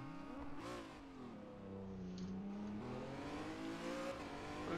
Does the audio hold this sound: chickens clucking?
no